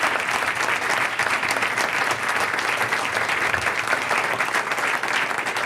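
Audience applause for the panelists at a doctoral fellows symposium, a full, even roar of many hands clapping that holds at a constant level from start to finish.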